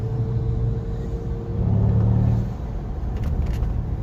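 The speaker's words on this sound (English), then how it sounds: "When I move it to sport, of course it upshifts, goes into a different gear." Mercedes C-Class W205 with automatic transmission heard from inside while driving, a steady low engine and road rumble that swells briefly and then eases as the gearbox shifts.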